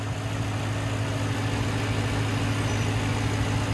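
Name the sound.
Aston Martin DBX 4-liter twin turbo V8 engine idling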